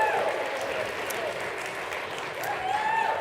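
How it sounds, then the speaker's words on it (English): Audience applause at a winter ski and mountain film event hosted at Palisades Tahoe, a steady dense wash of clapping with faint voices mixed in, filling the whole stretch evenly. "Let's give them a big round of applause."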